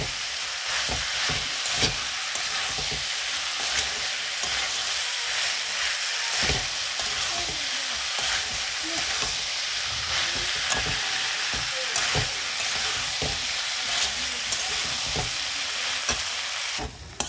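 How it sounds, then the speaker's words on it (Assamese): Chickpeas and potatoes fry with spices in a pan for ghugni, giving a constant loud sizzle broken by repeated scraping strokes of the stirring spoon throughout. "এতিয়া মই বুট আৰু আলুখিনি মছলাৰ সৈতে ভালকৈ ভাজি ল'ম 2 পৰা 3 মিনিট।"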